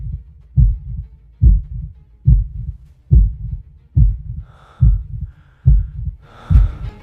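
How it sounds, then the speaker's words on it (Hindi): Loud, heavy heartbeat effect thumps in a steady, slow rhythm, eight deep beats in a row with faint tonal hums rising near the end. "उसका दिल इतनी जोर से धड़क रहा था कि उसे अपने कानों में अपनी ही धड़कन सुनाई दे रही थी।"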